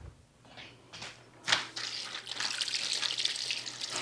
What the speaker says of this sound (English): Tap cold water.